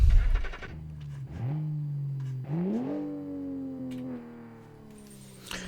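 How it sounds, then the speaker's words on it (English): A Porsche-like 911 Avantgarde Touring engine in BeamNG cranks and starts, then revs in two rising surges before settling into a steady, close idle. "Alright, starting up the engine."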